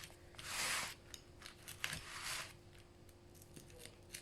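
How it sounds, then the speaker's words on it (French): Scissors snip through cardboard with two longer crunching cuts followed by several short, quiet clicks of the blades, close up and otherwise quiet. "je vais encore couper mon carton"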